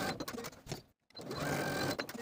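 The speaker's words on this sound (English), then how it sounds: "Sew the bottom edge of the facing to the front skirt with a 5/8 inch seam allowance" A sewing machine runs a 5/8 inch seam joining a dress facing to the front skirt, whirring in rapid bursts with one brief stop in the middle before stitching on steadily.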